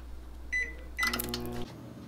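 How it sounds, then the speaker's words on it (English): Microwave oven heating an egg mixture, with a couple of short electronic keypad beeps followed by a start tone and a low steady hum from the running oven, no talk. "Putting in microwave."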